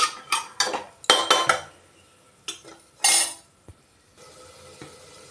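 A pressure cooker lid going on over yellow pea curry, a burst of metallic clinks and clatters, then a few sharper knocks and a final scrape before quieting.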